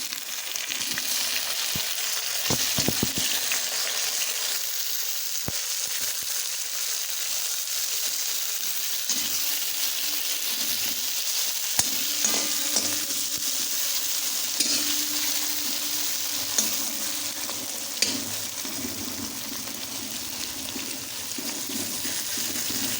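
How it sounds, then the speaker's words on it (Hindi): Tomatoes hit hot oil with garlic-ginger paste for a village-style bhindi dish, a steady close sizzle with occasional stirring scrapes and small pops running throughout, no voices. "इसमें अब मैं डालूँगा टमाटर।"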